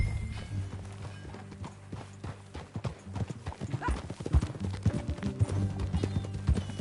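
Rhythmic clip-clop of horse hooves trotting steadily in the video game Red Dead Redemption 2, with a brief horse whinny and some faint voices in the background.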